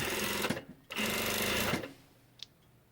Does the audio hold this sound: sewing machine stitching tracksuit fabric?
yes